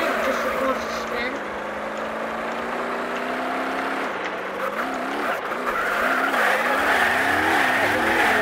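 A powerful Toyota sport model in BeamNG.drive revs hard and spins its tires, a continuous wavering engine whine with rising and falling pitch over steady tire squeal, loud and close throughout.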